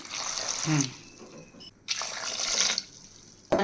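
Water runs and splashes into a cooking pot in a home kitchen during preparation of a spiced leafy-greens stew, in two close bursts separated by a short pause.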